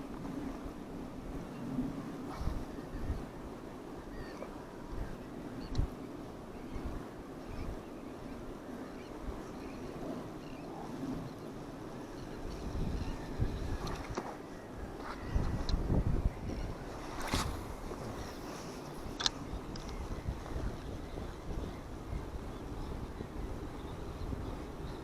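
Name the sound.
wind blowing on the microphone outdoors near water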